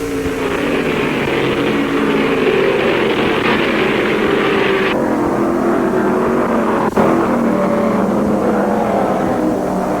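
Stock cars roar together on a restart at the 1974 World 600, a dense, loud, sustained engine drone with revving surges and a brief sharp burst midway, no talk.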